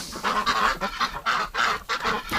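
Ducks quack and honk loudly in a rapid, repeated series of nasal calls, close by and continuous as they head outside in winter.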